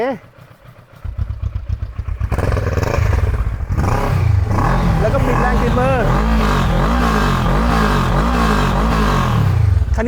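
A 2016 Kawasaki Versys 650 motorcycle with a recently serviced engine starts up and runs loud and close, settling into a rhythmic throbbing idle with small revs. Someone talks over it.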